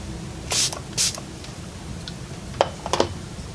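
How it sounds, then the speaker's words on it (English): Two quick spritzes of setting spray onto a makeup brush, close by, followed by a few faint light clicks. "I'm gonna spray it with a little bit of Fix Plus."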